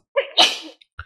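A single sneeze bursts out close and loud, a brief inhaled build-up followed by a sharp explosive release, then a short trailing sound in a quiet room.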